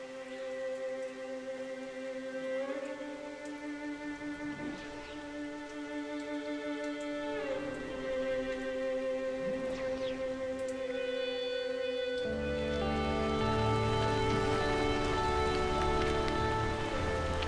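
Rain falls steadily outdoors on a fishing trip after two days of downpour, a continuous soft patter that swells louder toward the end beneath sustained musical tones.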